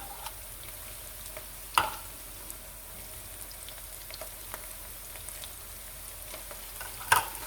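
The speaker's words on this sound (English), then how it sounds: "I'm really going to incorporate the tomato paste with that olive oil. Kind of saute that up in there." Tomato paste sautéing in olive oil in a one-pot pasta with peas, a faint steady sizzle beneath two sharp utensil clinks against the pot, no voices.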